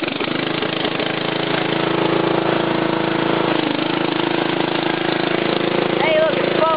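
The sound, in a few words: Craftsman lawn tractor engine running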